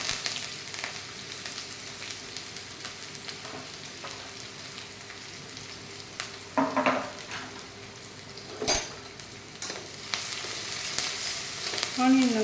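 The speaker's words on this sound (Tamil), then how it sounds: "ஆனியன் நல்லா வதங்கட்டும்" Finely chopped onion sautés in a pan, a soft continuous sizzle with occasional clinks and scrapes of a utensil stirring, a louder clatter near the middle and end.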